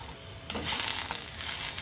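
Two tomatoes sizzle as they sauté in a pan for a chickpea and small potato gravy, a close, steady frying hiss broken by brief stirring scrapes.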